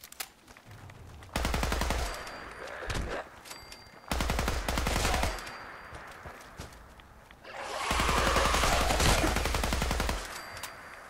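Rapid automatic gunfire with explosive rounds in Fallout 4, three loud sustained bursts of dense rattling shots separated by brief pauses, the last burst longest and roughest.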